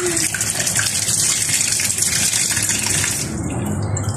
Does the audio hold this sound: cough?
no